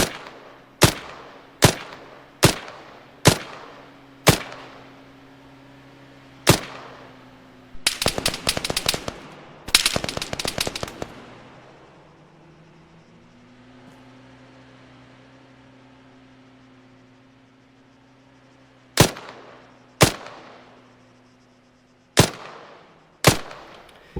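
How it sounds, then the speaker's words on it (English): Gunfire in the military shooter Arma 3: a run of loud, sharp single rifle shots at irregular intervals, then a dense burst of rapid automatic fire, then a stretch of quieter ambience before more spaced single shots close by. "I keep shooting at this guy, but for some reason, for whatever reason, I'm unable to hit him."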